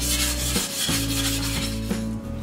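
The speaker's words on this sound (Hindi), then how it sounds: "इसे मेटल स्क्रबर के साथ इसे स्क्रब करके निकाल सकते हैं।" A metal scrubber rasping hard against greasy kitchen grime, loud gritty back-and-forth strokes in a steady rhythm, close up with no voices.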